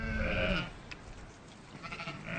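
Sheep bleating faintly as a dairy flock heads down to the milking shed on a Gippsland cheese farm in Australia, a couple of soft distant bleats over quiet outdoor background.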